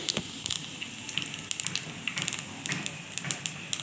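Nigella seeds crackle in hot oil heating for frying rohu fish, a soft, steady sizzle broken by scattered sharp pops and ticks.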